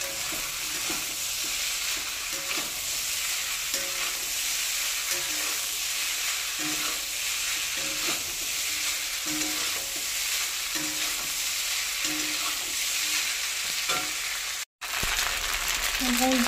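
Boiled, slightly overcooked pasta is stir-fried in a pan with egg, a loud continuous sizzle broken by repeated scraping stirs, with some faint voice in the background.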